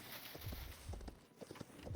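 Horse hooves clip-clop in Hytale, a steady walking rhythm of soft, muffled thuds, fairly quiet and close, with no talk over them.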